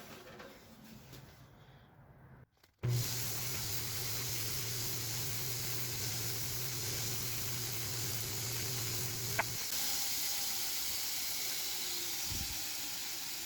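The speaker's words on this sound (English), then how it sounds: "Now we'll take it to the sander." A power sander grinds steadily against a railroad spike tomahawk handle, a loud continuous hiss with a low hum, starting abruptly after a brief pause and running unbroken for about ten seconds before a short tail.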